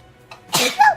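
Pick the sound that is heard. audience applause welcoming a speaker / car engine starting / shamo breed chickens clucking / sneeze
sneeze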